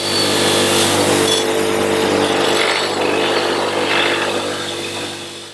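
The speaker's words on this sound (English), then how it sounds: "I'm just going to use a wire wheel, like a bench grinder, just to clean the surface up a little bit more." A brass wire wheel on a bench grinder scrubs the head gasket surface of a two-stroke outboard motor head, a loud, continuous harsh whirring and scraping that fades slightly at the end.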